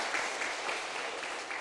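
A church congregation claps steadily, a dense wash of many hands that lasts only a moment without rising or fading.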